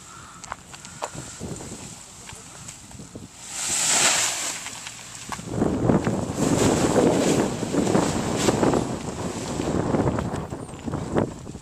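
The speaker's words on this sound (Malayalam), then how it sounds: "കാറ്റ് കുറച്ച് കൂടുതലുമാണ്" Strong outdoor wind buffets the microphone in rough, rumbling gusts, quieter at first, then a loud rush near four seconds, followed by sustained heavy blustering through the rest of the clip.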